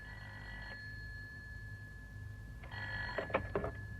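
A telephone rings twice as a call is placed, with one short burst at the start and a second louder burst near the end over quiet background hum.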